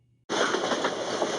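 A freight train on rails cuts in abruptly after near silence, a loud, close, continuous roar of rolling wagons with a faint rhythmic clatter running through it.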